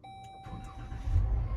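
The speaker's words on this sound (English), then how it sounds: "Start engine." A car engine started by voice command, with no foot on the brake, cranks and catches after a brief electronic chime tone, rising into a low steady idle rumble with no talking.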